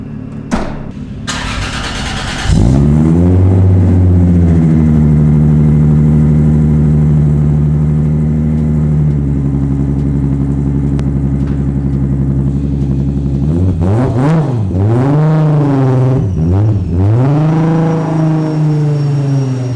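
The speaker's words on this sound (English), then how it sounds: "So now we're gonna fire up the Supra" A Toyota Supra cranks and fires up after a couple of short clicks, then settles into a steady idle, and a few sharp revs rise and fall near the end, loud and close with no talking.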